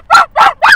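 A person imitates a dog barking, giving three loud, close woof-like barks in an even rhythm, with no other talk in between.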